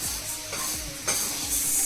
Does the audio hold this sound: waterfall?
no